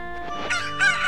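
A pocket cucco from Zelda: Ocarina of Time lets out a short, close, shrill rooster crow in two rising bursts, heard alone without voices.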